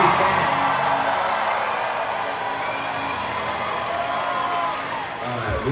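A concert crowd at the Salt Shed roars with applause, cheers and whoops, loud and dense throughout, fading slightly before swelling again at the end.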